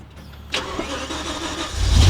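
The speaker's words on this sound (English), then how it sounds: "I'm going to start the car real quickly" A BMW E60 M5 engine cranks and catches with a sharp burst, then settles into a steady, fairly loud rumble that swells toward a deeper roar at the end.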